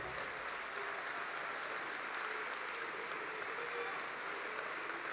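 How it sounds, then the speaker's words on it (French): A crowd at a French political gathering claps steadily, a dense, even wash of applause from many hands that holds at the same level from start to finish. "Ah oui, vous pouvez l'applaudir, Philippe."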